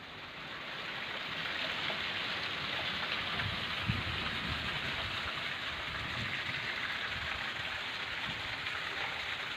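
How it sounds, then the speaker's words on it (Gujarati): Heavy downpour in the rural area of Jetpur, Rajkot district, Gujarat: a dense, steady roar of rain hitting the ground and surfaces, unbroken for the whole stretch, with no voices. "જેતપુરના ગ્રામ્ય વિસ્તારમાં મુશળધાર વરસાદ થઈ રહ્યો છે"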